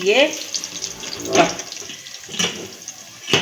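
Warm melted jaggery syrup pours into a pan of rice for sweet gur wale chawal, a steady liquid trickle with a few louder splashy bursts, close by, with a brief voice near the start.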